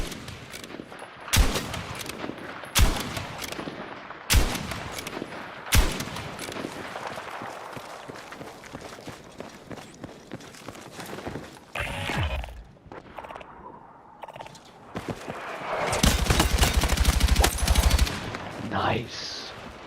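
Gunfire in a shooter video game: a series of sharp single shots spaced a second or so apart, then quieter stretches, and a dense rattling burst of automatic fire near the end.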